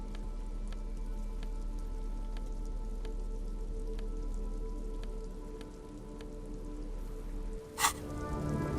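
Steady rain patters on a surface in the video game Disco Elysium, with faint periodic ticks and a sharp splash near the end.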